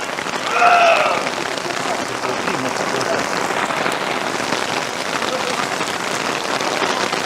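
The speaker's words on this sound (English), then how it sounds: "Right now the rain is making the broadcast very difficult here." Rain hissing steadily over a live football game between the Titans and the Bears, a broad constant wash that masks the field with a brief louder crowd-like swell early on and no clear talk.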